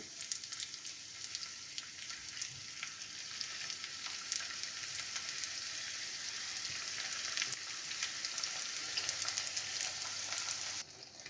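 Beef samosas fry in hot oil with a continuous, fairly quiet sizzle and crackle, a few pops, and no voices.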